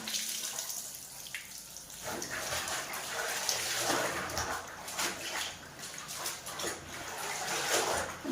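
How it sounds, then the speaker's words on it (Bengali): Clothes being washed by hand in water, with steady sloshing, splashing and running-water noise throughout, close and fairly constant. "এই জামাগুলো কাঁচা এগুলো ধুয়ে নিই"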